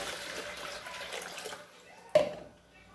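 Water runs from a tap for a litre of orange-lemon juice, a steady splashing stream that stops abruptly with a brief clunk near the end.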